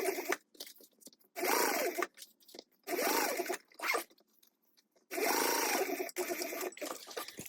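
Sewing machine stitching through the exterior and seam allowance of a fabric wristlet, three close bursts of rapid whirring separated by pauses, with small handling clicks between runs.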